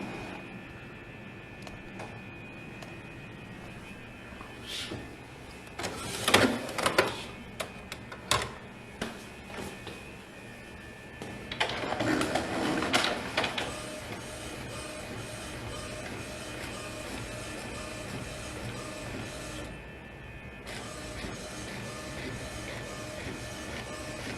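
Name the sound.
Epson printer printing a tattoo stencil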